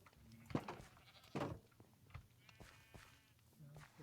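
Goat bleating in the video game Minecraft, a few short bleats rising over faint game ambience and soft footsteps, without anyone talking.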